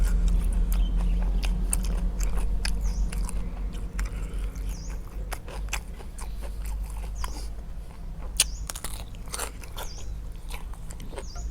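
Crunchy grilled beef tendon being bitten and chewed up close, a steady run of crisp crunches and wet mastication with no talking.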